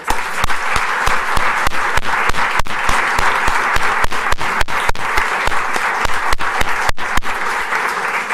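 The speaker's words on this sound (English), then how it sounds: "And let's give him a round of applause" A crowd at a League of Women Voters candidate forum claps for a school board candidate: loud, dense applause with many sharp individual claps standing out, continuing steadily throughout.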